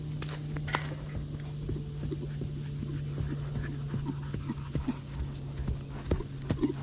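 Steady clip-clop of a horse's hooves walking on a hard surface during training, fairly close, over a constant low hum and some background noise.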